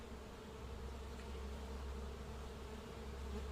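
Honeybees buzzing steadily around a beehive frame near autumn, a dense continuous drone close by with no voices.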